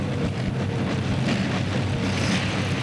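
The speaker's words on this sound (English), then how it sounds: "I can hear it howling from here. One of the motors definitely not acting right." A tractor or truck pulling machine at an indoor 1990 pulling championship, its engines howling loud and steady throughout, one motor running rough and uneven beneath the roar.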